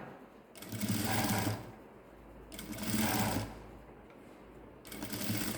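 Sewing machine stitching a blouse in three separate bursts of rapid mechanical whirring, close and fairly quiet, with short pauses between runs.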